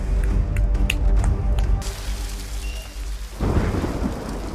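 A thunderstorm with heavy rain hissing steadily, loud rumbling thunder and several sharp cracks near the start, then rain continuing alone.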